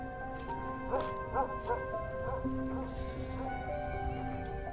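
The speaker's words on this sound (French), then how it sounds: "Ces chiens de garde protègent les nomades mongols depuis des millénaires." Mongolian guard dogs bark in a short run of sharp, loud barks at moderate distance, followed by a quieter whine-like tone and steady background noise.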